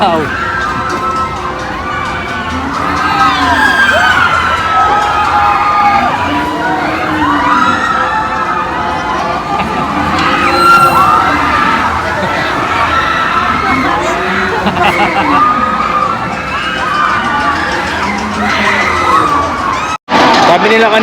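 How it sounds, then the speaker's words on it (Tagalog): Riders screaming on an amusement park ride at Star City produce loud, sustained crowd shrieks and whoops that rise and fall in waves throughout, close and dense, with a brief dropout near the end. "Sigaw."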